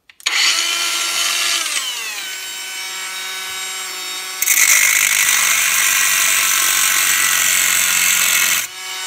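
A cordless angle grinder (Haimerdinger LB168) cuts at slow speed, grinding steadily with a high whine, its pitch dipping briefly, then a louder, harsher cutting stretch before it stops near the end.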